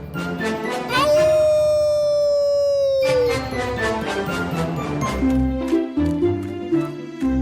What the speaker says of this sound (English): the wolf howled all night long and asked for help